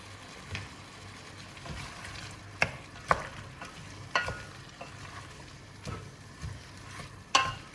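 A spoon stirs Genovese sauce with added tomato in a pot, giving soft scraping strokes and scattered clinks against the pot's sides over a low background hum, fairly faint and irregular.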